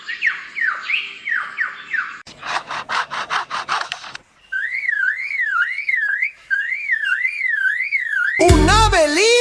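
A lyrebird runs through a string of mimicked calls, moving from chirpy descending notes to a rapid buzzy rattle, then a warbling up-and-down whistle repeated several times, and ending in a loud, rich burst of song.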